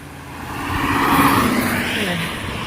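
Road traffic on Route 7 where it crosses the Appalachian Trail: a vehicle swells past close by and fades, over a steady roar of more distant traffic, with no talk.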